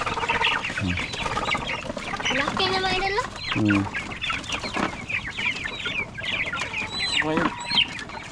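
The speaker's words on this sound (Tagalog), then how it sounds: "yung nilipat namin dito, oh, yung mga manok" Several chickens cluck and squawk in bursts nearby, with someone talking intermittently over the flock.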